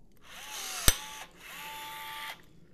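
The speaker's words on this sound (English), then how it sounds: "I have the rivet gun, place it over the mandrel like that, and then I'm going to pull a trigger" A Milwaukee M12 cordless rivet gun pulls a rivet mandrel in two short motor whirs, with a sharp snap as the mandrel breaks off partway through the first pull.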